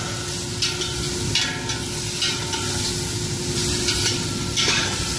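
Chicken shami kebab mixture with roasted cumin powder and chana dal is stirred in a hot pan, giving a continuous sizzle and hiss with scraping stirring strokes, close and steady.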